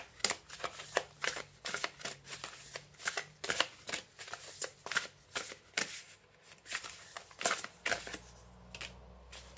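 Oracle cards for a tarot reading are shuffled close up, a steady run of about twenty crisp riffling bursts in a regular rhythm, faint and without talk.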